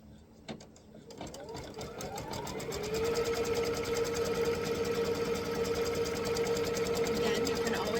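An embroidery machine with a 5x7 hoop stitches down a quilt block, starting with a few clicks and ramping into a steady, rapid mechanical hum that continues close and even to the end.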